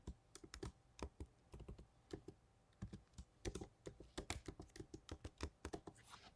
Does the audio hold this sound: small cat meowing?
no